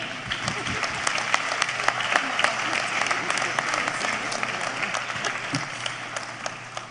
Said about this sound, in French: On peut aussi applaudir les membres du jury qui vont continuer à travailler.